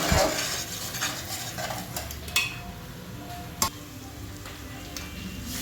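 Food sizzles in a pan while a utensil stirs and scrapes, with a couple of sharp metallic clinks.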